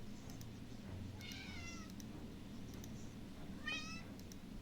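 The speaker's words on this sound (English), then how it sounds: "And my cat wants to talk." Domestic cat meowing twice, a rising-falling call followed later by a shorter one, close to the microphone over a steady low hum of game audio in the background.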